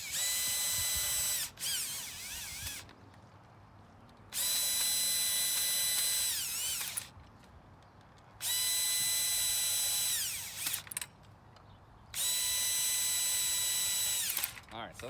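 A power drill whirs in long bursts while tightening down the rib cap on a Treasure Garden market umbrella, each high-pitched run lasting a couple of seconds with brief pauses and clicks between.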